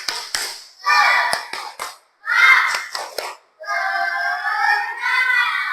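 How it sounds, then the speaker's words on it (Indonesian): Children in a classroom clap out a rhythmic spirit clap, quick bursts of sharp claps alternating with their chanting voices, loud and close, with group shouting filling the gaps between clap patterns. "Tepuk semangat."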